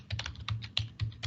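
Typing on a computer keyboard while entering Python code, heard as a quick, close run of soft clacking keystrokes in an uneven rhythm with no talking.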